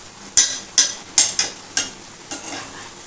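Three green chillies are stirred through hot oil for a bhetki fish curry, giving a faint sizzle under six or so sharp, evenly spaced scrapes and clacks of a spatula against the pan.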